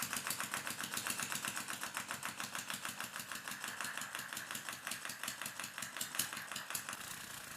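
A small diaphragm engine powered by liquid air runs with a fast, perfectly regular chugging tick, each pulse evenly spaced, faint and steady throughout with no other sounds.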